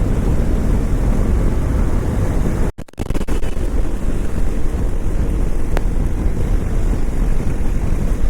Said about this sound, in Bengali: বাইক চলছে মোটামুটি 80-190